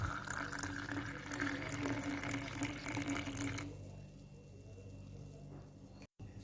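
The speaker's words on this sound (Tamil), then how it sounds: "இப்போ நான் கிளாஸில் ஜூஸை போர் பண்ணிக்கொள்கிறேன்" Sri Lankan cherry (varalu accharu) juice pours from a blender into a glass over ice cubes: a steady close liquid splash and gurgle for a few seconds, then the stream stops and only faint room noise remains.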